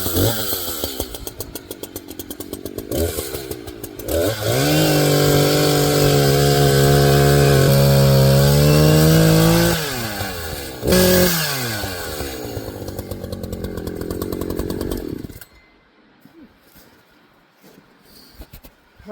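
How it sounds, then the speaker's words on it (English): A chainsaw cuts through a fallen tree wedged across a trail, snarling loudly close by. It revs up and bogs down in long pulls, drops briefly, then surges again before cutting off to quiet. "So I'll get the saw out real quick."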